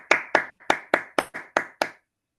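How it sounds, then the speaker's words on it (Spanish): Eight sharp, evenly spaced hand claps from a single clapper in quick rhythm at the close of a lecture, close and clear, then silence. "Así que lo vamos a terminar con un aplauso."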